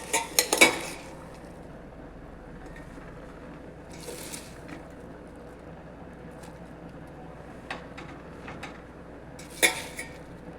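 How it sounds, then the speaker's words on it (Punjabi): A utensil clanks and scrapes inside a pot as mustard greens (saag) are pressed down, with a few loud metallic knocks at the start and sparse clatters later over a low background. No voices. "ਇਹਨੂੰ ਆਪਾਂ ਹੋਰ ਅੱਛੀ ਤਰ੍ਹਾਂ ਦੱਬ ਦੱਬ ਕੇ ਨੀਚੇ ਕਰ ਦੇਾਂਗੇ"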